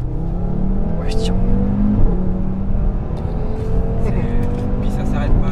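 An Audi RS3 sedan accelerates hard in second gear, its engine note climbing in a loud, steady rising drone heard from inside the car, with people talking over it.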